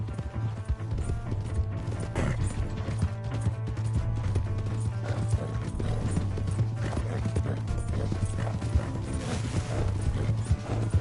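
Steady clip-clop of horse hooves trotting continuously in Red Dead Redemption 2, rhythmic and fairly loud, with a low constant hum beneath and occasional clattering.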